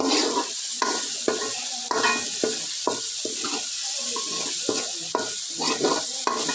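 Spices with turmeric and coriander sizzle in oil as they are fried down for a hilsa and eggplant curry, a steady hiss broken by repeated scraping stir strokes, close and alone without talk.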